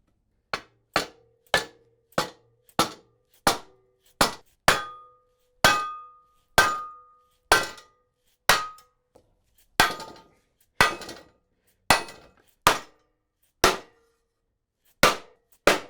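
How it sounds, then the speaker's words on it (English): Rectangular steel tubing hammered into place between two bolt holes while building a one-ton engine stand: a long series of sharp, ringing metallic strikes, close and loud, spaced under a second apart and alone without speech. "It's you saw me hammer it in between the two"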